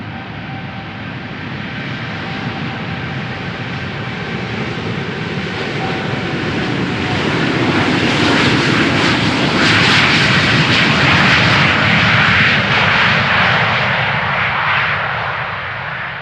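Aeromexico Boeing 787 Dreamliner jet engines spool up for departure from runway 36L at Amsterdam Schiphol, a broad, steady roar that swells louder over several seconds and then holds at full strength before easing slightly.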